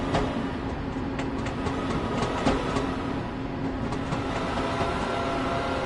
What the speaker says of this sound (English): You're wondering why the sound's cutting in and out. That's the contact, losing contact with the third rail.